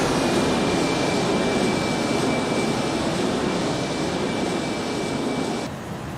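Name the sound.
iniBuilds Airbus A310 jet flyby in video game X-Plane 11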